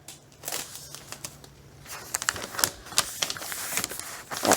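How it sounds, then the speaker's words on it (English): Tape being pulled and pressed onto a paper file folder poster, with crisp crackling and sharp tearing rips in irregular bursts, close and fairly quiet, no talking. "Taping it on."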